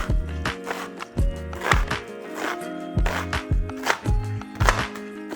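Kitchen knife chopping and dicing an onion on a cutting board at home, a series of crisp, close thuds in an uneven rhythm, about a dozen strikes with brief pauses, heard alone.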